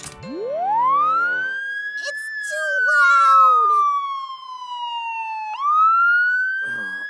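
Cartoon police car siren wails loud and close, a single rising and falling tone that sweeps up, glides down slowly, then climbs again, with brief clatter in the middle and no talk.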